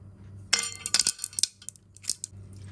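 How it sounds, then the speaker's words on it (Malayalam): Several ice cubes clink and rattle into a glass of raw mango juice in quick uneven bursts, close and crisp, with no talking. "ഇനി നമുക്കിതിലേക്ക് കുറച്ച് ഐസ് ക്യൂബ്സ് ഇട്ട് കൊടുക്കാം."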